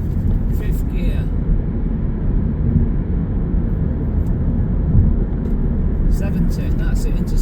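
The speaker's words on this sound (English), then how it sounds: "I'm going to floor it to see how fast it gets up to 70" A Kia Ceed 1.6 CRDi diesel sportswagon heard from inside at full throttle: a steady, loud, low engine drone and road roar that holds without a break, with a voice talking over it.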